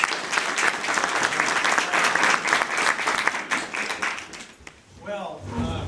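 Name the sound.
audience applause for the speaker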